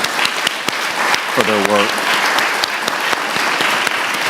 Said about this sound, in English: give Beth and John just a round of applause